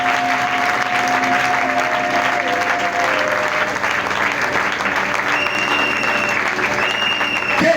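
A church congregation at a Sunday service claps and cheers in sustained, dense applause that stays loud and continuous throughout, with a brief high tone toward the end.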